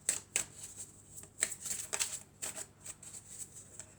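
Tarot cards being shuffled and drawn for a weekend reading, giving a run of crisp, close riffling and flicking card sounds in irregular bursts, without any talk.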